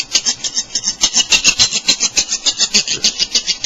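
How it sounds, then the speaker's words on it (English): A bore brush scrubs back and forth inside a metal gun magazine in fast, even strokes, a close, loud rasping scrape repeating about six times a second with no talk. "take your basic bore brush, and you just go to town. Scrub the whole inside."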